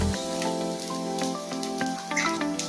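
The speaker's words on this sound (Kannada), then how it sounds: "ಹೈ ಫ್ಲೇಮಲ್ಲಿ ಚೆನ್ನಾಗಿ ಟೋಸ್ಟ್ ಮಾಡ್ಕೊಬೇಕು." Ingredients for a creamy pizza rice bowl sizzling in a pan while being toasted on a high flame, a steady close crackle and hiss with scattered pops and no talking.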